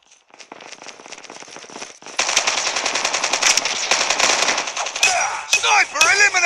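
Rapid automatic gunfire from the mobile shooter COD Mobile, loud dense bursts that grow heavier midway, with sharp ricochet-like whines and explosive cracks near the end, no talking.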